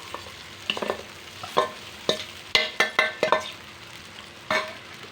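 Sago pearls and crushed peanut powder stirred in a pan over a low flame for sabudana khichdi, a series of about eight distinct scraping strokes of a spatula over a faint sizzle, close and fairly loud.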